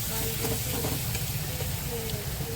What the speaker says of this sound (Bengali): এবার ভালো করে মশলাটাকে আর একটু কষিয়ে নেবো